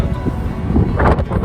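Gusty wind blowing across the open ground of a winter hike up the Allstone Lake trail near Nordegg, buffeting the microphone with rough, surging rumbles.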